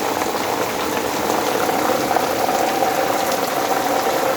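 Heavy rain pours onto a street as water rises, a loud, dense and steady hiss of falling water that runs unbroken throughout with no voices.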